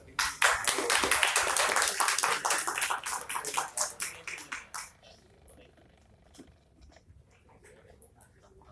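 Applause greets a student design group at an architecture discourse session: a burst of many hands clapping for about five seconds, then it tapers to a few scattered claps and quiet room noise.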